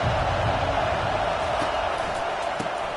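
Stadium crowd at a college football game roars in a dense, continuous wash of cheering and shouting, steady and loud throughout with no clear individual voices standing out.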